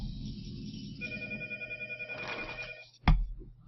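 A telephone bell rings in a warbling, pulsing burst that stops abruptly with a loud thump, as if the handset is picked up; no one speaks.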